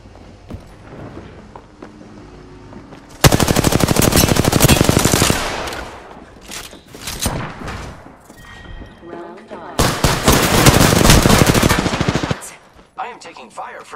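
Heavy automatic gunfire in the video game Apex Legends, with two long loud sustained bursts plus scattered single shots and thuds between them, while voices speak intermittently.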